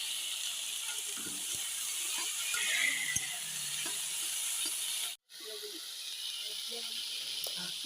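Malabar spinach stir-fried in oil in a pan at home gives a steady close sizzling hiss with scattered scraping clicks of stirring, broken by one brief silent gap.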